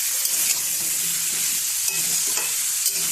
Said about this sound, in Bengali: সবজিটা ভাজা ভাজা হয়ে এসছে, এবার এর মধ্যে আমি নুন দিয়ে দিলাম।